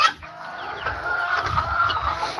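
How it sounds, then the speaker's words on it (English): Chickens clucking outdoors on a broiler farm, a steady run of close, overlapping hen calls and chatter against faint yard noise, with no talk. "Got a chick outside quacking or crying about something"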